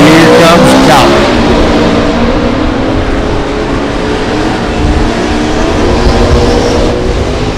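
Drag racing cars, one a Mustang, launch off the line at a Las Vegas drag strip with a loud, sustained engine roar that fills the whole stretch.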